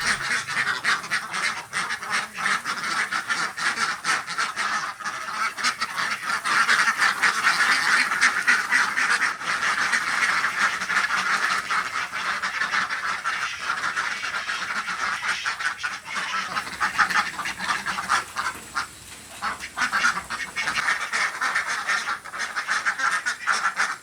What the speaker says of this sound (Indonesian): itik petelur ini mampu menghasilkan telur kurang lebih 200 hingga 300 butir